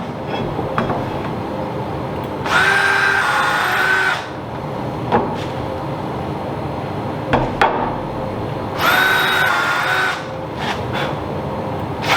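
A power drill whines in two bursts, each a few seconds long, drilling threads amid clanking and metallic knocks of workshop activity.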